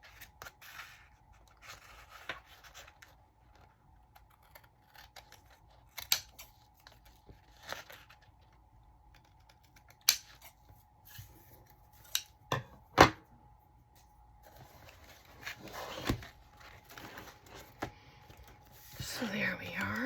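Scissors cut paper for a mixed media craft layout, a handful of quiet, sharp snips scattered over a hushed background, with faint soft speech and light paper rustling near the end.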